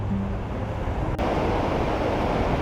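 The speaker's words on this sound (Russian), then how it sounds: "Сегодня солнечно, но ветер, как и вчера, ветер такой свежий." Fresh wind blowing over the seashore at Anapa's Albatross beach on a sunny spring day, a steady broadband rush with surf mixed in and a brief buffet against the microphone, loud and continuous throughout.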